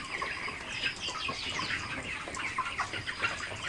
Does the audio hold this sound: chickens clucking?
yes